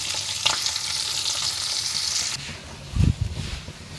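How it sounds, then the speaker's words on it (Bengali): Cumin seeds frying in hot oil: a loud, dense sizzle that cuts off sharply partway through, followed by a few close stirring clatters against the pan. "তো এই জন্য আলাদা একটু জিরে ভেজে নিচ্ছি"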